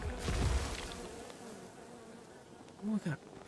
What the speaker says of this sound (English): Oh, we got bees.